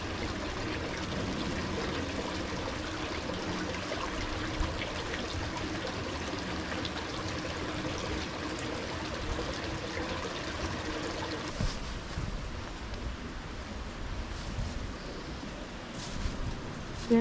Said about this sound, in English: You've got the sound of the rushing water here.